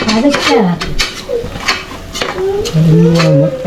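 A utensil scrapes and clanks against a pot while chicken mandi masala is stirred at close range, rhythmic metallic scraping with voices heard over it.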